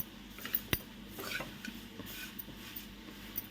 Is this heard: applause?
no